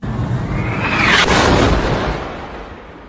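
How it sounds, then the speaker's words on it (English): A recorded blast at a hospital, a loud broadband explosion that erupts at once and rolls on as a heavy sustained roar before slowly dying away, with no voices present. "now let's hear the hospital explosion again"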